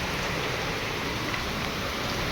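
Steady heavy rain falls in Bhubaneswar, a dense, constant hiss close by with no breaks and no voices.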